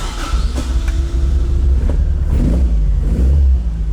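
An AE86 car engine runs loudly and close by, a deep rumbling idle with a few mild revs rising and falling.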